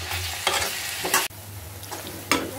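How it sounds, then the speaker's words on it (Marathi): Sliced onions frying in oil, slightly moist from the season, stirred with a spoon: a steady close sizzle broken by three scraping stirring bursts and a clunk, no talking. "तेलामध्ये सतत हलवत राहायचा आहे."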